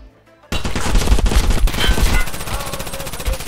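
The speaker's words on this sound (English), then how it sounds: "shoot the fucking red team" Rapid automatic gunfire in an arena shooter video game bursts in after a brief quiet moment, loud and close, a dense stream of shots that continues to the end.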